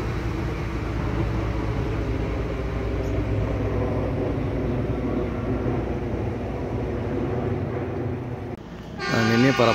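A TG 527 maintenance train with an excavator runs steadily on the rails near Bandung station, its engine rumble and wheel noise loud and continuous until a horn-like tone sounds near the end.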